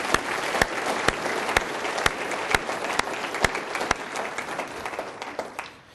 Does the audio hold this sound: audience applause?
yes